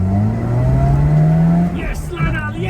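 A Lada 2103 with about 63 horsepower accelerates hard in first gear, its engine note climbing steadily from inside the car before a quick shift and a brief drop, then rising again.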